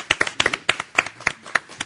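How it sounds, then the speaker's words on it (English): An audience claps for a student at a martial arts event, a sparse series of distinct, fairly close hand claps in an irregular rhythm with little else around them. "Give Nia a big round of applause, everybody."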